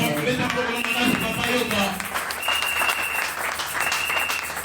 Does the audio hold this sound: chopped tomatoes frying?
no